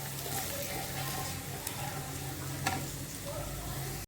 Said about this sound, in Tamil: அது கூட இப்போ ஒரு ஸ்பூன் மிளகாய்த்தூள் சேர்த்துக்கலாம். சேர்த்துட்டு இதையும் நல்லா மிக்ஸ் பண்ணிக்கலாம்.